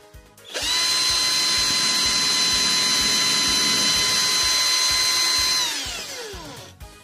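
Power drill boring a hole in a homemade wooden fishing lure (wobbler): a loud, steady high whine that spins up abruptly, holds for about five seconds, then winds down and fades.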